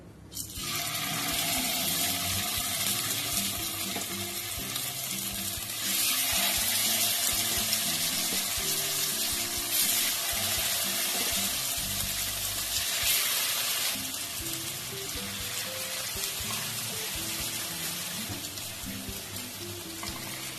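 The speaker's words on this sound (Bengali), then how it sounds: "তেল গরম হয়ে গেছে, মাছগুলো এবার আমি দিয়ে দেবো।" Hilsa fish fry in hot oil with a steady, loud hiss that continues through the whole stretch, while a faint tonal background plays underneath.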